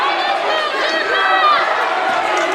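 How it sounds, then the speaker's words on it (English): Basketball crowd at a women's college championship semifinal, MSU Billings against Central Washington, roaring angrily at a referee's call: a dense, loud, sustained wall of shouting voices filling the arena. "This crowd is incensed as well at that call."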